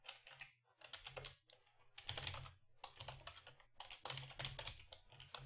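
Python code being typed on a computer keyboard for MotionBuilder scripting: quick, irregular clusters of light plastic key clicks with brief pauses between bursts, close and quiet, with no voice.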